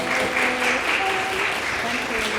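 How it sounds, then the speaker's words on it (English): A panel audience gives a dense, continuous round of applause, clapping loudly and evenly throughout at close range. "Give her a round of applause."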